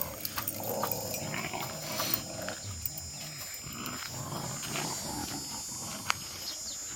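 Jindo dogs scuffle and play nearby, with low growls, snuffles and rough panting in a lively, uneven stretch, plus a few sharp sounds.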